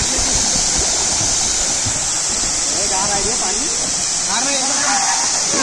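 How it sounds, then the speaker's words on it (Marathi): Water rushes steadily over rocks at Marleshwar in the Sahyadri hills of Konkan, a loud, continuous roar like a waterfall or fast stream, with voices faintly audible beneath it. "पाणी"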